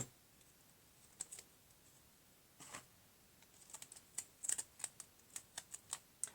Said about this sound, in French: Vous prenez votre paire de ciseaux